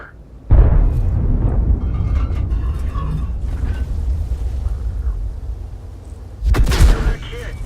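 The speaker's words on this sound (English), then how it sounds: "And there's the artillery." Heavy artillery shells hit a tank in World of Tanks: a sharp, loud boom opens, followed by a long rumbling tail, then a second powerful blast near the end, with faint talk in between.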